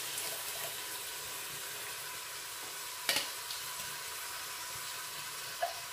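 Finely chopped tomato going into a hot frying pan for tomato rice, giving a steady, even sizzle throughout, with a couple of brief clicks from the pan.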